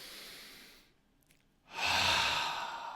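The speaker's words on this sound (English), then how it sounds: "Just take a deep breath in on this one." A slow, deep breath drawn in and let out by a person during a guided meditation, soft airy breathing that fades to near silence, then returns as a fuller, louder exhale.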